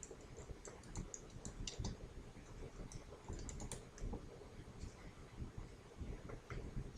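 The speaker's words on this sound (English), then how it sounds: "in the categories property, click add a category, type financial statements." Quiet tapping on a computer keyboard, a quick irregular patter of soft key clicks in short bursts, heard up close with no voices over it.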